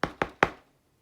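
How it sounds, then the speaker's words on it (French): Three quick knocks on a door, evenly spaced and close, each sharp hit ringing out briefly before silence. "Le petit chaperon rouge arriva peu après et frappa à son tour à la porte."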